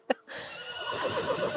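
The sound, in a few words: horses neighing on a farm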